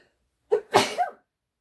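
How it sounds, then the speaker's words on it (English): A single close sneeze with a short sharp intake of breath, then a forceful burst and a trailing vocal tail, set against silence. "Oh, I think I'm going to sneeze."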